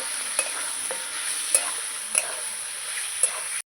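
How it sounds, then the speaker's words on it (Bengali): Onions being stirred in a cooking pan, a soft continuous sizzle with four or five sharper spatula scrapes spaced out, close by, ending abruptly in near silence; no talking. "ভালো করে আবার নেড়ে চেড়ে নেব"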